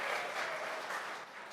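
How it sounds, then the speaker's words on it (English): Audience clapping during a presentation, a steady patter of many hands that fades slightly toward the end. "You don't have to clap after every slide unless you really want to"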